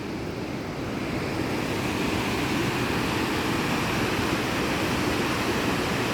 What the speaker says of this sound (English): Here's the river through town.